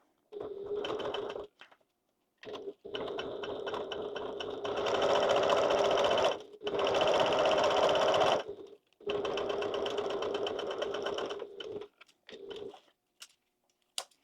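Sewing machine running basting stitches close to the fabric edge, loud buzzing bursts in several runs with short pauses between them, and a few faint ticks at the end.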